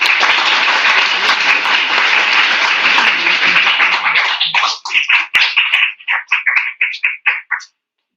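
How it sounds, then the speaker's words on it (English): A crowd applauds steadily and loudly for several seconds, then the clapping thins into scattered, uneven claps before stopping. "A round of applause, everybody."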